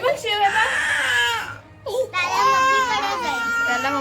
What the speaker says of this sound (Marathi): आंघोळ केले आणि आता रडतोय